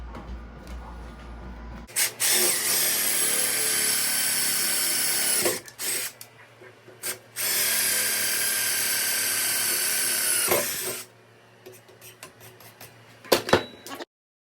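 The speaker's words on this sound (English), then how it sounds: "Drill the second holes." Loud, close power drilling through steel in two sustained bursts, whining high and grinding, with clicks and handling noises in the gaps and afterward.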